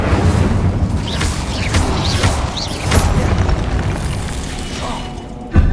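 Confringo fire spell blasts in the Hogwarts Legacy video game, a run of loud booming explosions with crackling bursts and whooshing magical sweeps, dense and continuous, ending in a sharp final blast.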